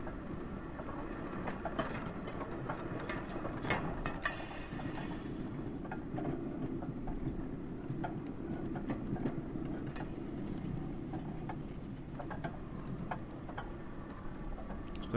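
Train rolling past in the video game Only Up, a continuous low rumble with steady rhythmic clicking of wheels over rail joints, holding at an even, moderate level throughout.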